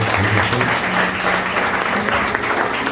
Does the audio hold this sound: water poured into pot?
no